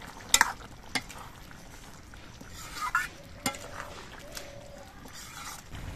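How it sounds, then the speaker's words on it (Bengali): A ladle's back mashing potatoes into a thick chana dal and pumpkin curry in a pot, soft scraping and stirring with a few light metallic taps over a low bubbling simmer. "হাতার পেছন দিয়ে এইভাবে গালিয়ে দিলেই হয়ে যাবে।"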